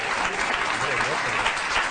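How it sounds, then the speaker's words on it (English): A studio audience at a late-night talk show claps in a dense, even burst of applause lasting about two seconds, with a voice speaking faintly underneath. "You can applaud anytime you like"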